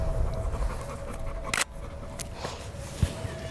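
A dog pants steadily and close by in rapid breathy rhythm, with a brief louder rustle midway and faint sounds in the background.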